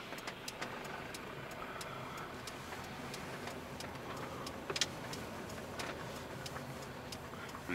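Car pulling away during a driving lesson, heard as a faint, low engine hum inside the cabin with light regular ticking over it, no voices.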